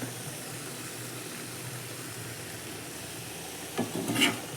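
Cabbage and potato are stirred into a pan where fish has just been fried, a faint, steady sizzle that ends in a few louder scrapes and clinks of the spoon against the pan.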